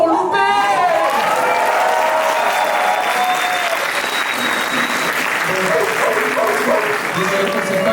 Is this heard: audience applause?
yes